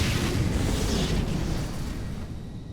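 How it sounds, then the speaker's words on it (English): A Hellion unit under bombardment in Civilization: Beyond Earth: a heavy, sustained explosive roar and rumble that holds steady for about two seconds, then slowly fades, with no voices. "My Hellion being bombarded."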